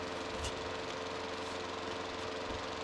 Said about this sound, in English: It's the lawnmower again.